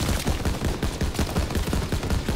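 Rapid bursts of gunfire from the World War II shooter Call of Duty WW2, dense overlapping shots and automatic fire crackling steadily and loudly throughout, with no voices.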